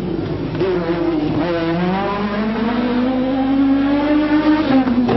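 A Renault Megane rally car engine revs hard and climbs through gears nearby at a 1997 rally in Oviedo, loud and aggressive with a raspy, rising tone.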